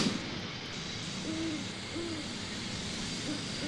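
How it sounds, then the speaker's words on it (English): Soft video game owl hoots from a WWII tactics game repeat a few times, low and fairly distant, over a steady rushing ambient hiss. "I don't know if you guys can hear the owl sound effects."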